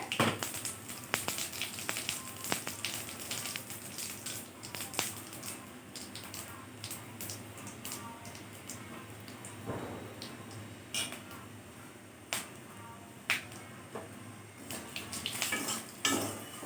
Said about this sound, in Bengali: ফোড়নে আমি দিয়ে দিচ্ছি গোটা জিরে শুকনো লঙ্কা আর তেজপাতা একটা এটা আমি ফোড়ন করে নিচ্ছি প্রথমে